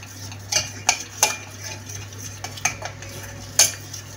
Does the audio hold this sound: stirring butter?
yes